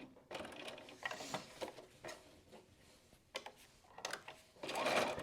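Sewing machine stitching fabric with backstitches at the corners, heard as short mechanical whirring bursts separated by pauses, fairly quiet and close, with a louder burst at the end.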